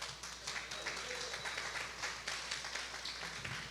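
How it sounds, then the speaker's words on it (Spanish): An audience in a church applauds, a steady wash of many hands clapping at moderate distance, fairly faint and continuous for a few seconds. "Un aplauso a los..."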